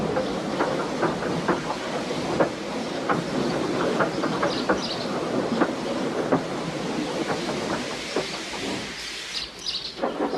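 A steam engine moves along a railway line with a steady, moderately close rattling and clicking that runs throughout, and faint bird calls sound in the background.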